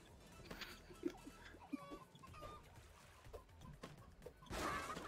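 Chickens cluck in the video game Bang on Balls: Chronicles, with scattered short clucks and squawks at moderate distance over a quiet game background, ending in a louder burst near the close.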